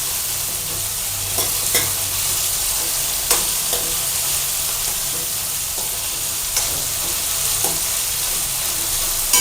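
Grated vegetables including beetroot and carrots frying in a pan for poha kachori filling, a loud, even hissing sizzle that runs steadily throughout with a few faint stirring clicks and no talking.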